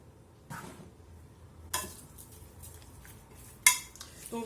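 Chicken marinade with olive oil and coriander stirred in a bowl: a few scattered scrapes and clinks of a utensil against the dish over soft handling noise, close and quiet.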